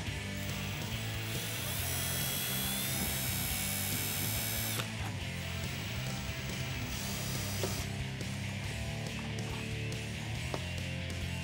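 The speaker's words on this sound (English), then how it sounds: "you can do what I'm doing and use a Phillips bit on a drill" A power drill with a Phillips bit whirs and ratchets continuously up close, removing Jeep Wrangler JK taillight screws, its motor pitch rising and dropping between bursts, with mechanical clicking throughout.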